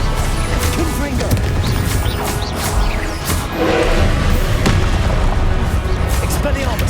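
Blasting spell explosions in the Hogwarts Legacy game, heavy booms and crashes mixed with combat effects and other spell sounds, dense and loud throughout.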